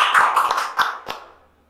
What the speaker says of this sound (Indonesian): Tepuk tangan lagi sekali dong.